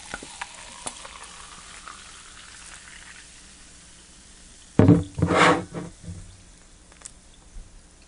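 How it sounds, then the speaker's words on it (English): Root beer poured or opened so its carbonation fizzes, a faint bubbly hiss at first, then a loud close burst of crackling fizz and splashing that quickly fades to a soft hiss. "Fair amount of carbonation going on there, as you can probably hear."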